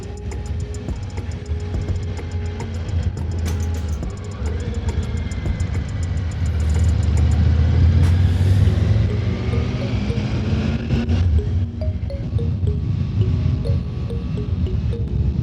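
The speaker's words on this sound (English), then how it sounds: "engine noise becomes a bit more interesting" A Triumph Tiger 900 GT Pro motorcycle engine hums and drones steadily with wind rush, rising and falling slightly as it rides, loud and continuous.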